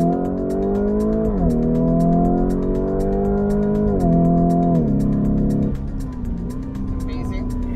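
A 2020 Lamborghini Urus accelerating hard, its engine tone climbing through rising gear steps before easing off, loud from inside the cabin with a steady rhythmic ticking behind it.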